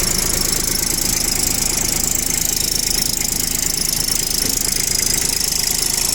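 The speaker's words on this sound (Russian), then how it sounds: "Наш трехцилиндровый моторчик. Работает ровно" The three-cylinder engine of a Kubota Aste A17 mini tractor runs steadily close by, an even rattling chug with a bright metallic clatter on top and no voices.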